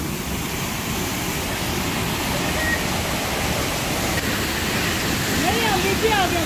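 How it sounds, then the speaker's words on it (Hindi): Ceunant Mawr, a large waterfall in Llanberis, North Wales, with clear, fast-flowing water pouring down in a continuous loud broadband rush, heard close with no pauses. "काफी बड़ी आबशार है और बड़ी तेजी से पानी आ रहा और बड़ा साफ है।"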